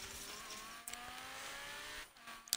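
A car engine races in Forza Horizon 4, with a steady high revving whine that climbs in pitch and dips briefly during two gear changes, moderately loud and with no voices.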